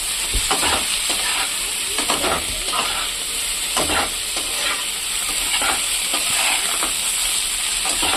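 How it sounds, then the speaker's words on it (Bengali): Slit green chillies fry in a pan with a steady, dense sizzle and crackle, broken by a few sharper stirring scrapes, loud and close throughout with no talking. "কতগুলো কাঁচা লঙ্কা চিড়ে দিয়ে দিলাম। এটাকে ভাজবো।"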